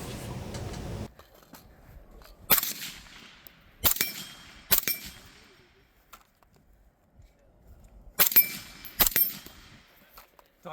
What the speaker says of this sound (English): and I can shoot it suppressed.